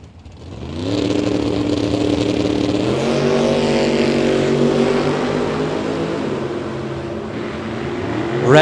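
Drag racing cars, a Mustang and a Vega, roar down a bracket race strip, with loud engines climbing steadily in pitch through their gears and holding a sustained, close roar before fading.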